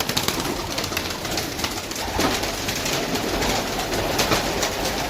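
Pigeons kept in a rooftop loft coo softly among a dense bed of ambient noise, the low burbling calls fairly close and continuous with no talk.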